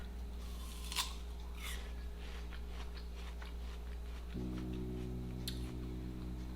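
Crunchy Korean pear being bitten and chewed, with a few sharp crisp crunches near the start and again later, close and fairly quiet over a steady low hum.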